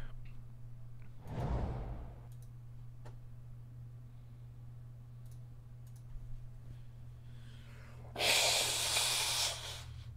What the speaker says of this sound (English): I'm going to blow my nose for a second.